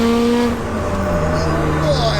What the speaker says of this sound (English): Mate, when that boost comes in, it's unreal.